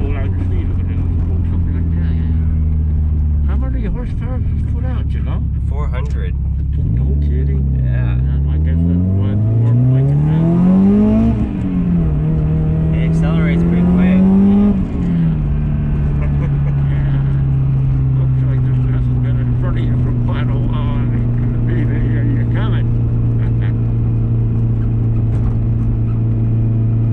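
A 400 hp Subaru WRX engine is heard while driving, rumbling loudly and revving up and down through several gear changes before settling into a steady cruise, with talking inside the car.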